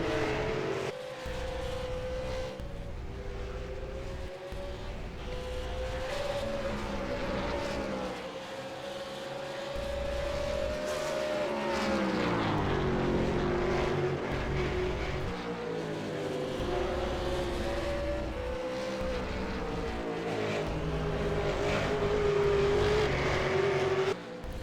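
V8 Supercar race cars roar around the Brands Hatch circuit, a continuous loud engine drone with rising and falling pitch as cars accelerate, shift and pass, heard without talk.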